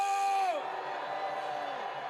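Outdoor political rally crowd in Daegu's Park Chung-hee Plaza near Dongdaegu Station roaring on cue, a loud shouted swell that dips after a half second and continues as a sustained chorus of yells and cheers.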